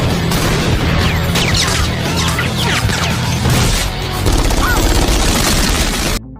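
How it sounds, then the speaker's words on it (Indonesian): A fierce film gunfight, dense and loud throughout: rapid volleys of gunshots and automatic fire mixed with crashes and booms, continuous for about six seconds before cutting off abruptly. "Hingga aksi baku tembak sengit tak dapat lagi dihindari."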